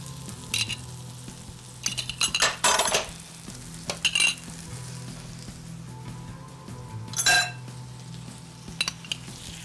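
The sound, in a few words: spooning yogurt into tawa kaleji in pan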